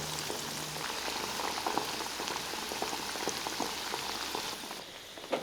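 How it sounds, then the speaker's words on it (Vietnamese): Marinated pork ribs frying in oil over medium heat, giving a dense, steady crackle and sizzle with scattered pops, moderately close and continuous throughout, with no one talking. "Mình chiên với lửa vừa ha, không chiên lửa lớn quá để tránh sườn bị cháy bên ngoài mà bên trong vẫn chưa chín"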